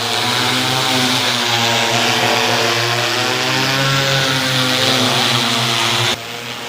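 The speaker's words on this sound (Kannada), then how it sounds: "ಡ್ರೋನ್ ಮೂಲಕ ಔಷಧಿ ಸಿಂಪಡಣೆ ಮಾಡುವ ಡೆಮೋ" A loud, steady propeller drone of an agricultural pesticide-spraying drone hovering close by during a demonstration at a farm fair, its whine holding constant before dropping slightly near the end.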